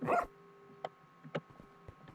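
A dog in the Minecraft video game gives one short close bark, then a few soft, quiet yips and whimpers at spaced intervals over a faint game tone.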